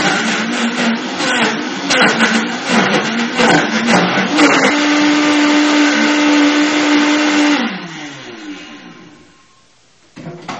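A Vitamix 5200 blender churns soy milk, honey and frozen strawberries with a loud, close motor roar, lumpy and chopping at first, then smoothing into an even whine before spinning down and stopping near the end.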